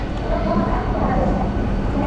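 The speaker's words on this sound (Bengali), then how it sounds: "হাওড়া স্টেশন থেকে ট্রেন বেরিয়ে যাচ্ছে" A local train pulls out of Howrah station on the route to Digha, its continuous low rumble and rattle filling the carriage evenly throughout a brief moment.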